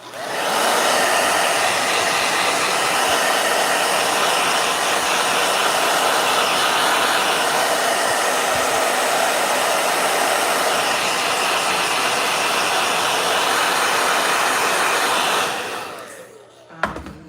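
A blow dryer runs loud and close with a steady roaring hiss for about fifteen seconds, then cuts off and winds down, followed by a faint clunk.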